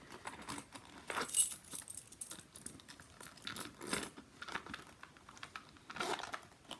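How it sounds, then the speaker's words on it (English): Keys jangle and clink as they are slipped into a Louis Vuitton Damier Azur key pouch, a close, fairly quiet series of irregular metallic rattles with brief jingling bursts and soft handling noises between them. "then you can just put your keys in there"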